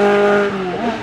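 A VW Golf 2 16V race car at a hillclimb roars loud and close with a strong, steady engine tone, then the pitch drops and wavers as it passes.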